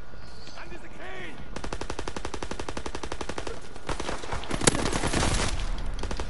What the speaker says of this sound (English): using that machine pistol